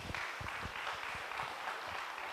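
Applause from an audience at a foundation day exhibition, a dense wash of many hands clapping together, steady and moderately loud, with nothing else standing out.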